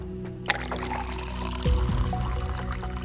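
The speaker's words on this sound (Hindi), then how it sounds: "अचानक से कभी आरओ की टोटी अपने आप चालू हो जाती थी और ऐसा लग रहा था कि पानी बेसिन में गिर रहा है।" Water from an RO purifier tap pours steadily into a basin, a continuous splashing trickle that grows heavier partway through, heard alone and close.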